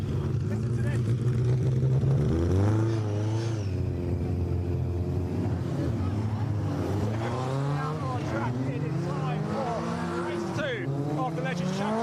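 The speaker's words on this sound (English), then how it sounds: "number 40 Hughes, a quiet looking car. Best of luck out here, we're about to head out" Number 40 racing car heading out onto the track at Donington Park during a Legends Championship race meeting, its engine revving loud and close in rising and falling sweeps while a person talks over it.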